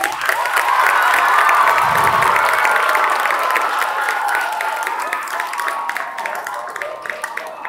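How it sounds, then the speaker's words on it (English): A talent show audience cheers and applauds together, with claps, shouts and whoops from children mixed into a loud, steady wall of crowd noise that eases slightly toward the end. "so we can just give them one more round of applause."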